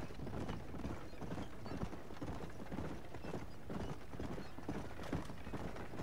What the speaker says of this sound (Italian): Oddio, gara a cavallo.